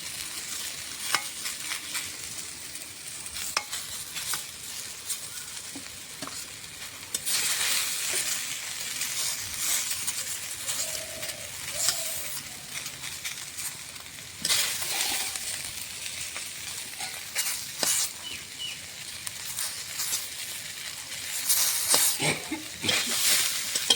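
Brinjal (eggplant) frying lightly in oil in a pan, a continuous close sizzle broken by scattered clinks and scrapes of stirring, with brief louder flare-ups.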